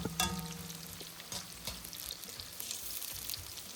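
Shallots dropped into hot oil for chili crisp crackle and sizzle steadily, a burst of frying at the start settling into continuous close bubbling with faint stirring.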